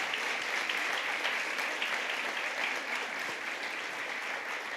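A church congregation at a Sunday celebration service applauds continuously, a dense, even wash of many hands clapping at moderate distance with no voices above it.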